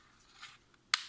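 A steering wheel clock spring assembly, part 5K0 953 569 AL with a metal plate and ring, gives one crisp, sharp snap as it clicks into place after faint rustling.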